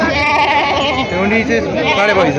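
A large local (gavran) goat bleats repeatedly at a busy sheep and goat market in Parbhani, Maharashtra, loud and close, with wavering cries running together over crowd chatter.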